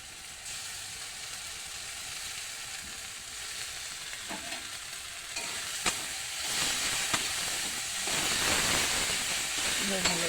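Ginger and garlic paste frying in a pan, a steady broadband sizzle that grows louder and brighter over the clip, with a few scraping stirs and soft clicks of a utensil near the end.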